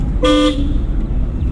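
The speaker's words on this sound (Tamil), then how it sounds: "ஹார்ன் அடிச்சிருக்கோம்." One short car horn toot sounds over steady engine and road rumble, heard from inside a moving driving-school car.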